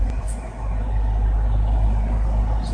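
Cincinnati city traffic, with cars, trucks and buses rumbling steadily nearby, a continuous low roar with faint hissing touches and no voices.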